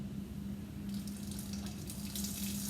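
A water aspirator runs for vacuum filtration in a lab, producing a steady rushing hiss of flowing water, close and even throughout with no talk.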